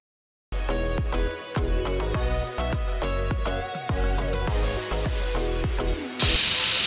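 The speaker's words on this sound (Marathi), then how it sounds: "2 शिट्ट्या झालेल्या आहेत कुकरच्या" A pressure cooker on the stove lets off a sudden, loud, sustained hiss of escaping steam near the end, following several seconds of rhythmic tonal music with no voices.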